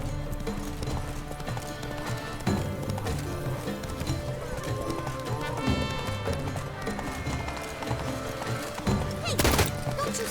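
Horse hooves clip-clop steadily in The Witcher 3 as a mount trots along, layered under game music with a brief whinny and occasional voices.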